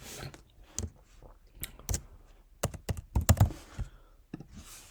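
Fingers type a username and password on a computer keyboard, with quick irregular key clicks and taps in short bursts, close and clear in a quiet room.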